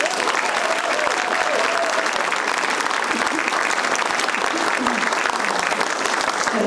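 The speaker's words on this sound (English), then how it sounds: "So let's give them a round of applause again" Sustained, dense audience applause fills the room at a party thanking county supporters, loud and continuous throughout with a faint voice beneath.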